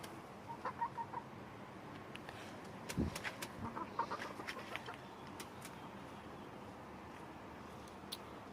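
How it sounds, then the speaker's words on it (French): A rooster clucks and calls in short bursts from a farmyard, with scattered bird sounds and faint background noise; no voices. "Donc là le coq qui est assez beau"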